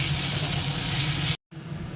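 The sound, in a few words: vegetables frying in a pan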